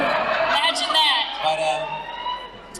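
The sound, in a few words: siren from an emergency vehicle outside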